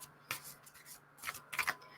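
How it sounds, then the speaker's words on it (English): A tarot deck shuffled by hand in the overhand method, giving soft papery riffles and light slaps in short bursts, close to the microphone and quiet. "So this is the overhand method. I'm just like catching with my thumb and shuffling with my other hand."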